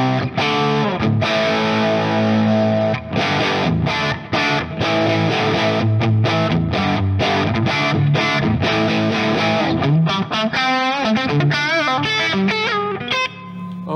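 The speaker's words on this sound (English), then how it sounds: "That's what this amp basically sounds like with single coil pickups" An electric guitar with single coil pickups plays through a heavily distorted tube amplifier, loud chugging chords and riffs with brief stops, turning into a wavering lead line near the end.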